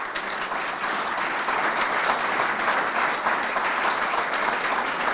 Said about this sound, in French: J'aimerais qu'on applaudisse le représentant de ce club et son club en même temps.